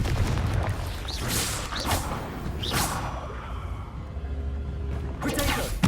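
A Confringo blasting spell fires in Hogwarts Legacy on PS5, with several sharp whooshing bursts and booming impacts spread across the clip over a steady game backdrop.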